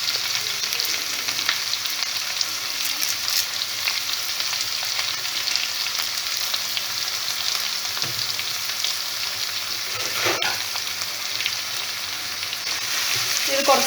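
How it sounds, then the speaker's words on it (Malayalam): Onion, garlic, ginger and curry leaves sautéing in oil for a chicken curry, a loud, continuous close sizzle with a few light stirring clatters and no talking. "ഇനി നമുക്ക് ഇതിനകത്തേക്ക് ഉള്ളി, വെളുത്തുള്ളി, ഇഞ്ചി ഒക്കെ കൂടെ ഇട്ട് ഒന്ന് നന്നായിട്ടൊന്ന് വഴറ്റിയെടുക്കണം"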